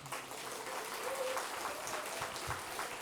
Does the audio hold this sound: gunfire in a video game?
no